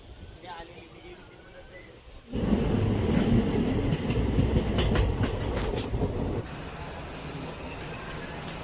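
A passenger express train arriving at Panvel station rumbles loudly with rhythmic clattering wheels, swelling suddenly after a quieter start and staying heavy and continuous to the end.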